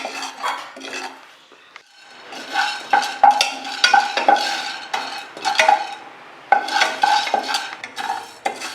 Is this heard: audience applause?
no